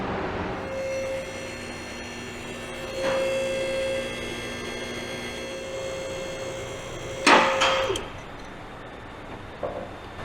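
A car lift raises a car in a garage, a steady droning motor tone that pauses and resumes, with a loud metallic clunk near the end and no talking.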